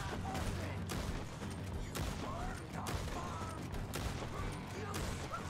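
Repeated gunshots in the Western video game Red Dead Redemption 2, a dense exchange of cracking shots every second or so over game ambience, with a voice speaking faintly beneath.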